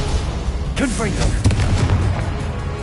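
Confringo spell blasts in Hogwarts Legacy, booming bursts that go off a couple of times in quick succession while a voice speaks.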